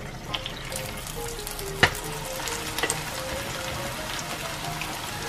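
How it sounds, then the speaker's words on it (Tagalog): French fries bubble and crackle in hot oil in a pan, a continuous close sizzle with a faint hum running beneath and a couple of sharp utensil taps. "Fry na natin tong french fries."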